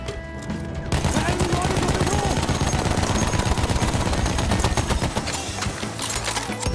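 Machine gun fire in the game Battlefield 1 rattles in a loud, rapid, sustained burst lasting several seconds, close by and continuous after a brief quieter opening.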